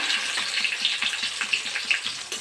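Onions frying in hot mustard oil in a pan for a mixed-vegetable dish, a steady broadband hiss and crackle with small popping bursts, close and continuous, no voices.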